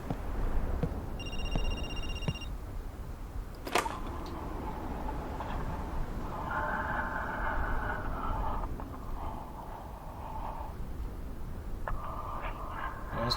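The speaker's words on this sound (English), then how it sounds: "Yep, phone's ringing." In the horror video game Linger, a telephone gives a brief, faint ring early on, followed by a sharp knock and later low humming tones within a quiet, eerie ambience.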